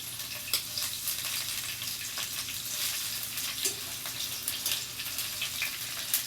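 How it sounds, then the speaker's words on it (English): Kale sautéing in hot olive oil in a pan, a steady soft sizzle with scattered crackles and light stirring clicks, fairly faint and continuous throughout. "we can add the kale into the pan"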